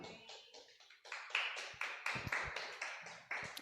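A church congregation applauds during a service, making steady, fairly faint clapping in overlapping bursts with an irregular rhythm and no voices over it.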